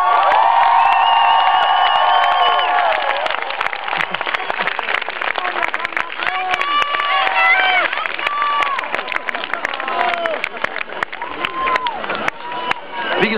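Open-air lakeside concert crowd applauding and cheering, steady dense clapping with whoops and shouts throughout, loud and close, with voices calling out over it.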